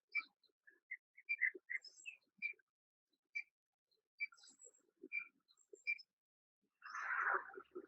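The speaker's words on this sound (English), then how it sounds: "Yeah, you hear birds." Birds in a forest give short, spaced chirps and whistled notes, some clear and others faint, over a quiet background, ending with a brief burst of busier twittering.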